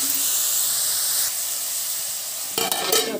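Capsicum and tomato curry frying in a pan, a steady close sizzle and hiss that drops slightly partway through, followed by a few scraping stirs near the end.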